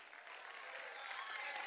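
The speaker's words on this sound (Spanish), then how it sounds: "un aplauso" Faint, distant applause from a crowd at a Monagas Sport Club event in Venezuela, a soft steady patter of clapping with no clear individual claps.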